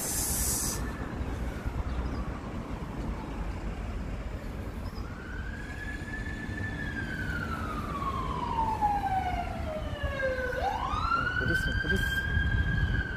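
A police car siren in Hagley Park, New Zealand, wails in a long falling sweep that rises again into a sharp yelp, heard over steady outdoor background noise while cycling, moderately close.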